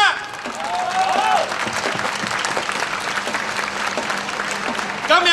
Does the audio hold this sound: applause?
yes